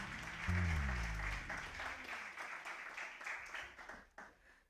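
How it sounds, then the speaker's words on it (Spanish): A church congregation claps at a Sunday service, a moderate burst of applause that follows a brief low voice and gradually thins out toward the end. "Denle un aplauso en nombre de la iglesia, a las personas que nos están aquí"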